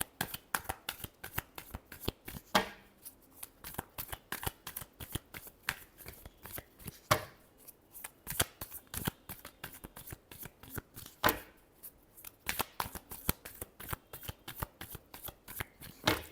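Tarot cards being shuffled by hand, a steady run of quick crisp riffling flicks close to the mic, with brief pauses between bursts and no talking.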